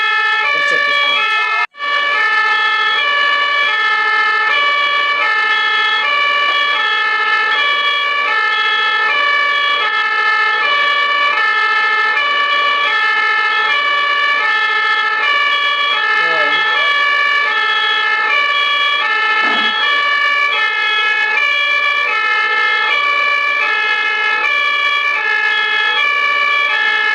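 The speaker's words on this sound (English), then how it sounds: "They're making way for the ambulance to pass." An ambulance siren wails continuously as the vehicle moves through German road traffic, loud and close with a steady repeating tone, and a brief break near the start.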